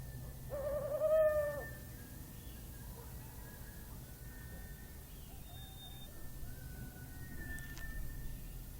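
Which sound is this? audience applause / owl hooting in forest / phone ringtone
owl hooting in forest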